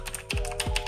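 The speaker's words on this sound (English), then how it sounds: "I actually built my first custom keyboard" Keys clack on a custom-built computer keyboard, a quick patter of close, crisp taps with two heavier thuds, alone without talk.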